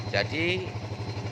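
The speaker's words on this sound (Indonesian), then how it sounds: "Motor ini tidak berebet, langsamnya bagus ya" A motorcycle engine idles smoothly and evenly, a steady low pulsing throb that runs throughout while someone talks over it at close range.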